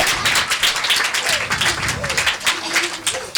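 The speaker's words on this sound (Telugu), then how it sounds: "క్లాప్స్ కొట్టండి, గట్టిగా" An audience claps steadily, a dense, moderately close patter of many hands with a voice speaking over it.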